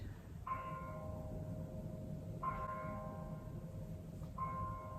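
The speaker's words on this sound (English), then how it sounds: "Church bells." Church bells ring three times at an even, slow pace, each strike sustaining a tonal hum over a low background rumble, somewhat distant.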